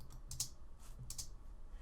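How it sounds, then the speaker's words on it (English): Several quick keystrokes tap on a computer keyboard, close and quiet, in two short bursts separated by a brief pause. "I'll hit F on the keyboard so I see the entire thing."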